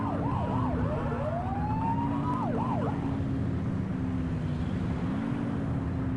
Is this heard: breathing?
no